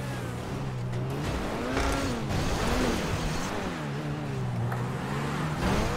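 A car in GTA 5 drives and slides, its engine droning and revving loudly with rising and falling pitch throughout, alone without talk.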